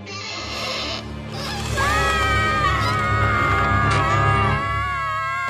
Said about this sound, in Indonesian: Kalian bisa berhenti berteriak sekarang.